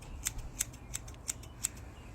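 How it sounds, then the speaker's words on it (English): Scissors snipping through a young child's hair, five crisp evenly spaced metallic cuts, close and quiet over a soft background hush. "and then we're just going to cut."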